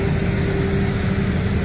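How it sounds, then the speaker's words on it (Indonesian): Engine of a street garbage cleaning machine in Metz, France, running as a steady low mechanical drone with a constant hum, close and continuous throughout with no pauses. "itu dia mesin pembasmi sampah"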